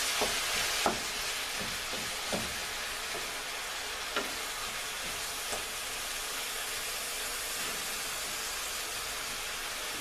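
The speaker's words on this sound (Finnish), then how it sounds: "Näette vähän kuinka meikäläinen paistaa jauhelihaa tässä." Ground meat frying in a pan makes a steady, close sizzle for the whole stretch. Occasional clicks from stirring break through the hiss, and no one speaks.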